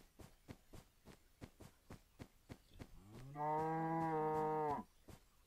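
A Minecraft cow gives one loud, sustained moo of about a second and a half, rising above a steady rhythmic thumping of game sounds or footsteps.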